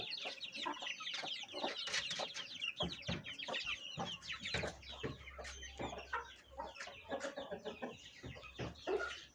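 A hen clucks busily while laying eggs, with dense, irregular bursts of clucking and squawks close by, the calls overlapping almost without pause and no voices present.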